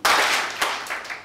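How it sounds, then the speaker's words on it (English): Audience at a hospital's ISO 9001:2015 certification ceremony clapping, a short burst of applause that swells and then thins into a few scattered claps. "Let us give them a clap."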